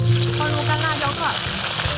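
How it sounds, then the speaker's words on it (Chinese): Dried chili pieces dropped into hot oil in a wok for a seafood stir-fry sizzle and crackle in a dense, continuous spatter, loud and close, under a low background hum. "放入干辣椒块"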